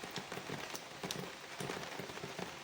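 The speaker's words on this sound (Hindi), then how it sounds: "बारिश को लगातार लगी हुई है" Steady rain patters on surfaces around a village home on a fourth straight day of downpour, a soft, even hiss with scattered close drops and no talk.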